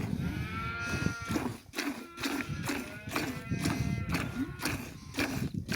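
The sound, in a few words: cow mooing in a village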